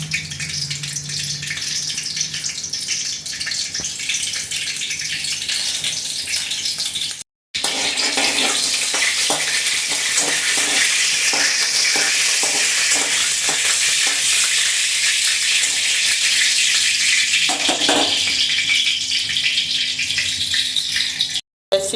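Cumin seeds hit hot oil and sizzle loudly and steadily in a home Indian kitchen, a dense frying hiss with stirring scrapes, briefly interrupted twice.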